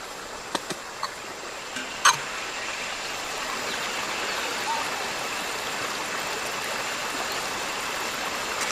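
A stream in Costa Rica rushes steadily, a constant broad wash of running water with a few brief clicks near the start.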